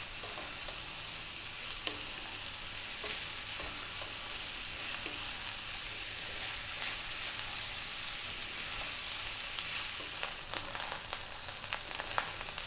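Rice and chana dal fry on high heat while being stirred, giving a continuous loud sizzle with scattered scraping and tapping of the spoon against the pan.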